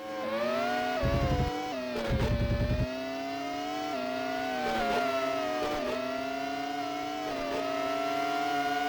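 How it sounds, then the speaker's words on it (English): F1 race car engine from the N64 game F1 Racing Championship, a continuous high, whining tone that rises and dips with gear shifts, joined by a brief rough buzzing burst twice, alone with no voices. "You just sit there listening to the engine, which sounds like a torture device they use on you at the dentist office"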